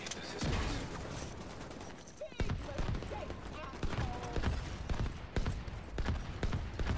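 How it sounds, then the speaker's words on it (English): Gunfire in The Division 2 during a co-op firefight comes as bursts of rapid shots and mechanical clatter, moderately close, with brief pauses between volleys and voices talking over it. "You two carry on shooting."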